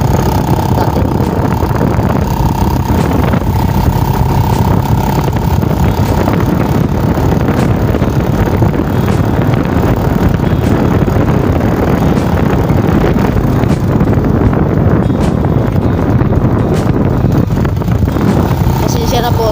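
A motorboat engine drones steadily and loudly, with gusts of wind buffeting the microphone over the continuous running motor.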